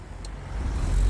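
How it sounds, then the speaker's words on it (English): A car approaches along a country road, heard from inside a moving Willys jeep; a low rumble swells steadily louder over about a second under the jeep's own engine noise. "Comes a car."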